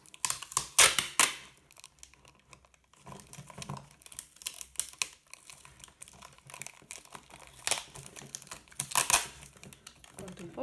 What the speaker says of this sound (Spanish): Lo voy a hacer con precinto gordo